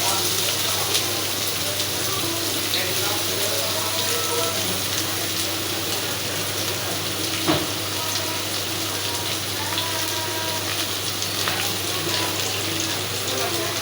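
Chopped onions sizzling in hot oil in a pan with whole garam masala spices while cooking beef kidney bhuna, a steady loud hiss and crackle throughout with a faint voice now and then.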